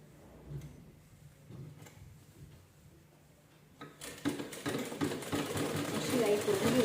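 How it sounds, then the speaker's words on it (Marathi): Sewing machine stitching around a blouse neckline, starting midway after quiet handling noises and soft voice sounds, then running steadily and growing louder toward the end. "शिलाई करून घेऊया आपण."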